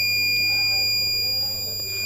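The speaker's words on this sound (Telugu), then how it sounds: "ఆ టైంలో బజర్ మోగుతుంది అండ్ రెడ్ లైట్స్ వస్తాయి." An obstacle-detecting robot vehicle's buzzer sounds as a steady, continuous high electronic tone with a low hum underneath, held for about two seconds without speech.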